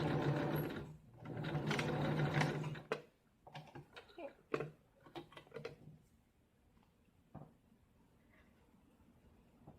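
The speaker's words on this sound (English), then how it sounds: "I'm using a short zigzag stitch." A sewing machine runs a short zigzag stitch on sweat bra fabric in a quick, loud burst, then gives way to scattered clicks, taps and handling noises.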